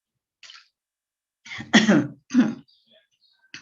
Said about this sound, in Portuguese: eu estou com um pigarro, fruto de refluxo, que está me incomodando bastante